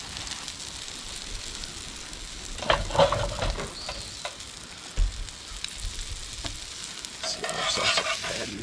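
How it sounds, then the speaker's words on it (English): English muffins toasting in a pan over a camp stove at a mountain campsite, a faint steady sizzle with occasional scraping and clinks of a utensil against the pan. "And we'll get some English muffins toasting."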